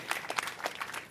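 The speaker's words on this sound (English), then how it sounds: "Round of applause for that." Brief burst of audience applause at a government press announcement, scattered claps fading in and out for about a second.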